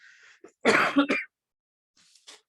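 A person coughs and clears their throat, a couple of harsh close bursts separated by short silences.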